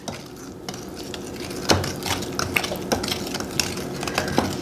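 A Danish whisk works eggs into a cranberry orange quick bread batter, giving soft wet scraping and dull knocks against the bowl in an irregular rhythm, close and moderately quiet with no talking.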